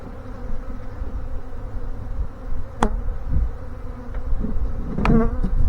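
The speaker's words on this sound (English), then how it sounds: "Nice swarm of bees. Pretty swarm of bees right there." A thick, continuous drone of a honey bee swarm hovers close, steady throughout, with a few brief clicks and taps on top.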